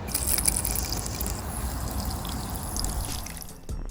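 Water is poured into a leopard gecko's water dish, a steady, close splashing trickle lasting a few seconds before tapering off, with no talking.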